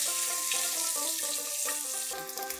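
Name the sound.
duck eggs frying with turmeric, salt and chilli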